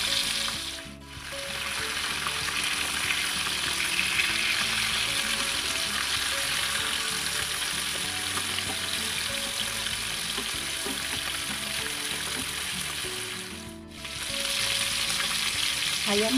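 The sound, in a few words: chicken frying in hot oil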